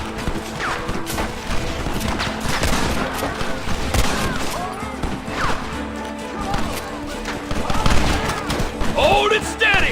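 Dense video game battle gunfire, rapid overlapping shots and bursts with crashes and impacts throughout, shouted voices mixed into the chaos.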